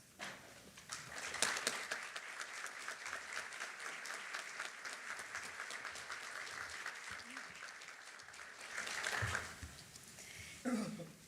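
A large audience applauds steadily at a nursing college graduation ceremony, with dense, sustained clapping that fills the room and swells near the end.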